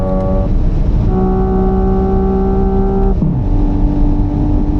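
Simulated manual gear shift sound from a Hyundai Ioniq 6 N on the Nürburgring, a loud synthetic engine drone with stepped pitch changes, the tone jumping at each shift and dropping sharply near the end, with no talking.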